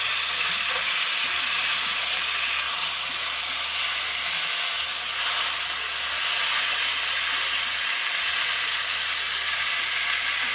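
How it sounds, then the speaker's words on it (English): Steak sears in a very hot pan, giving a constant loud hiss and sizzle with a low steady hum underneath and no voices. "See that's seared on one side of the steak"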